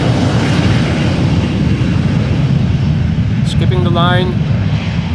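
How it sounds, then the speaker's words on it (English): An Embraer 175 jet bound for Düsseldorf at Amsterdam Schiphol starts a rolling takeoff, its engines a loud steady broadband roar throughout, with a brief voice speaking over it. "The Embraer 175 to Düsseldorf is making a rolling start"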